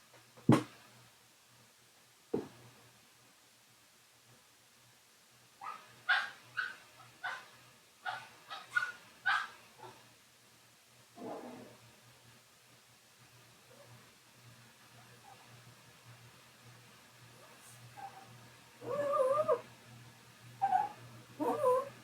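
A dog whines and whimpers in a series of short, high tonal cries from a few steps away, with a faint steady hum underneath and another cluster of whimpers near the end.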